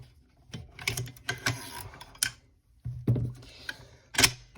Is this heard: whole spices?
no